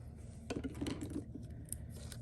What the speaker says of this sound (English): And we'll cut this off here.